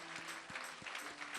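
A church congregation applauding the Lord, a steady wash of clapping from many hands, moderately distant and fairly quiet, with a faint tonal hum running beneath and no clear voices.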